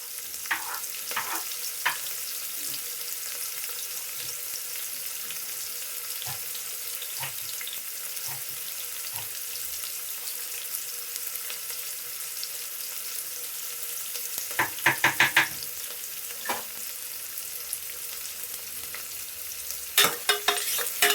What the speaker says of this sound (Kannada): ಸೊ ಇದು ಸ್ವಲ್ಪ ಕಲರ್ ಚೇಂಜ್ ಆಗೋವರೆಗೂ ಫ್ರೈ ಮಾಡ್ಕೊಳ್ಳೋಣ.